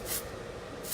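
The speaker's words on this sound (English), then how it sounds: "This is a texture spray, also known as a dry shampoo. It's called Refinish." Refinish texture spray, a dry shampoo, hisses from an aerosol onto hair in two short close bursts at the start and end, with a quieter gap between.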